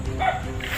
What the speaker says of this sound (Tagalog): Tahol lang tahol.